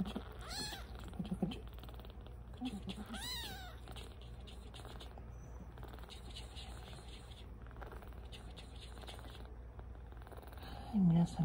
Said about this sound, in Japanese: 皆さんぐるぐる聞こえますか。